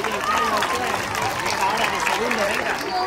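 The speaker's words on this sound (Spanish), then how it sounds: "Un fuerte aplauso" Applause from an audience at a school event for 25 November, steady dense clapping filling the whole stretch with faint crowd murmur beneath.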